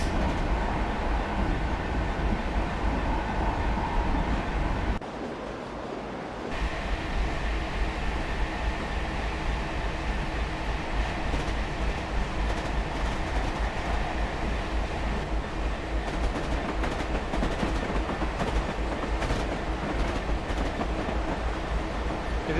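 A freight train runs in the Train Simulator 2020 video game, with a continuous loud rumble and rhythmic rail clatter throughout and a brief dip in the sound partway through.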